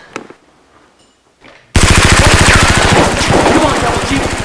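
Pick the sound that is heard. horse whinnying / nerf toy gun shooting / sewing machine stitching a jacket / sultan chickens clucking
nerf toy gun shooting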